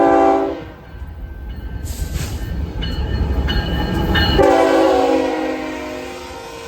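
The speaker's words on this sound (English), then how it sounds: "The last train we saw before heading home was the ZLACWSB with a fake bonnet trailing last" A ZLACWSB freight train with a fake bonnet unit trailing last rolls past. Its horn blasts loudly at the start and again near the end, over a steady rumble of passing cars.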